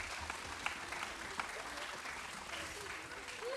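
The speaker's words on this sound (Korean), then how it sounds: "다시 한번 영광의 박수를 하나님께 드리겠습니다." A church congregation at a Friday prayer meeting gives a sustained round of applause, a steady wash of claps with faint voices mixed underneath.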